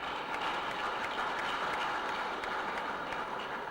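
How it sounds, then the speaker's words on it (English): Steady applause from an audience at a youth summit in Edo State, honoring the Speaker of the House of Assembly: continuous, even clapping throughout with no break. "I think he deserves a round of applause."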